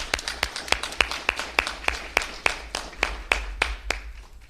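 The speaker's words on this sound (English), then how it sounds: "Let's give her a big round of applause." Sparse applause for a fifth-grade student leader at an elementary school recognition event, about a dozen loud, evenly spaced claps in a steady rhythm.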